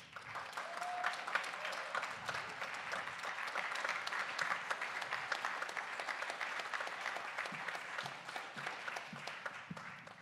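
Sustained audience applause for singer Diana Santos at a big band concert, dense steady clapping from a crowd across the whole stretch, no speech over it.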